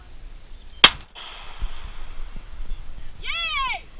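A single sharp handgun shot cracks at close range, followed by a brief ringing decay and a quiet gap. A high voice squeals just after.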